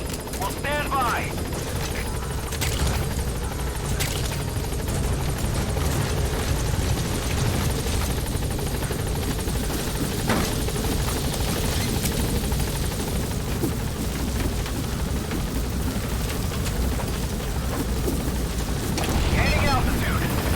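Metal Gear Solid V support helicopter landing at a landing zone, a loud, steady rotor roar and engine drone sustained throughout, with short radio voice transmissions over it.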